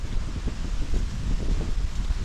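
Steady wind blows across the microphone in a continuous rushing wash by the Karachuniv reservoir in the Carpathians, with low rumbling gusts and no talking.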